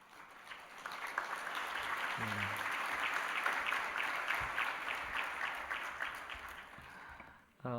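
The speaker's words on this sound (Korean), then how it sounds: "한번 박수로 환영하겠습니다" A church congregation applauds to welcome visiting missionaries during a Sunday worship service, a steady, dense wash of clapping that swells and holds for several seconds before cutting off abruptly at the end.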